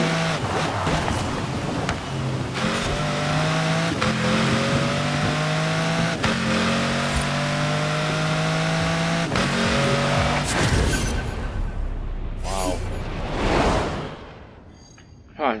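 A Chevrolet Camaro in Forza Horizon 4 races hard, its engine revving loud and close through repeated upshifts, then tapering to a whooshing pass and brief tire noise near the end.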